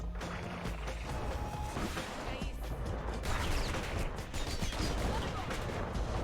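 Bullets and gunfire from the video game Bastion rattle in dense, continuous volleys, with a voice talking over the action.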